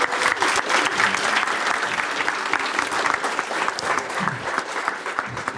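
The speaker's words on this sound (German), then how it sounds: "das ist, glaube ich, einen kleinen Applaus wert" An audience at the closing presentation of Jugend hackt, a youth hackathon in Munich, claps warmly and continuously, a dense, close wash of hand claps with a faint voice or two mixed in.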